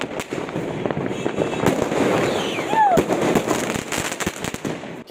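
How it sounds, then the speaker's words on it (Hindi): Diwali fireworks bursting in the night sky, a dense run of sharp cracks and pops with a rising whistle near the middle, crackling continuously over crowd murmur. "आसमान में दमदार पटाखों की लड़ियाँ छूटनी शुरू हो गई"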